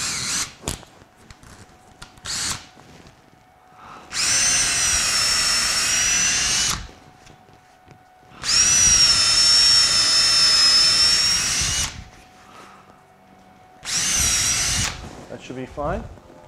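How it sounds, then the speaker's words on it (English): A power drill whines loudly in three separate bursts, each lasting a few seconds, drilling a screw hole in a walnut bowl blank for a screw chuck, with quiet pauses and a brief voice between them. "Just drill the screw hole."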